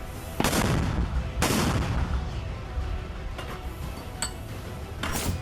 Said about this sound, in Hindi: अब इस वीडियो को देखिए कैसे इन ठिकानों में खुलने वाली सुरंग से बाहर निकलकर हमास लड़ाके इजराइल पर रॉकेट दागते हैं।